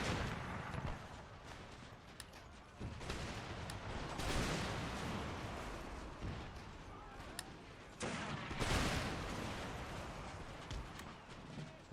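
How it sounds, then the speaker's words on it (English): Cannon and musket fire from the Empire Total War video game, with dense layered volleys, rolling booms and crackling gunfire in continuous far and near bursts, loud battle ambience throughout. "They're taking multiple cannon shots."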